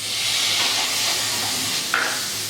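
Tomatoes going into a pan of sizzling masala, a dense, steady hiss of frying with a brief scrape near the end, close and moderately loud.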